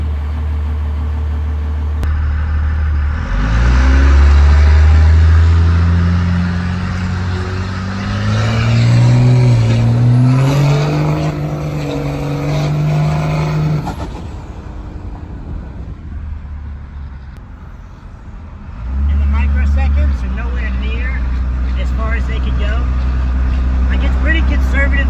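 A diesel Cummins pickup truck fitted with big injectors accelerates hard from a standstill, its engine roaring and climbing in pitch through the gears, easing off, then surging loudly again near the end.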